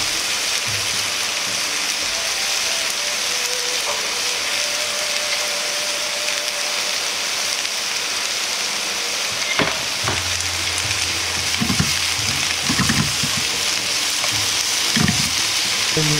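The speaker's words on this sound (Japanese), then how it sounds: "油が回るようにして炒めていきます。" Cabbage and komatsuna stir-fry in oil for yakisoba, a steady loud sizzle with occasional clanks and scrapes of a utensil against the pan, no voices.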